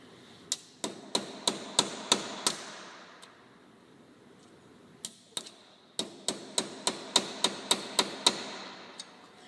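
Sharp metallic hammer strikes on a center punch marking a hole in a 2014 Polaris RZR 900-4 trailing arm, in two quick bursts, about seven blows, a pause, then a longer steady run of ringing taps, close and crisp.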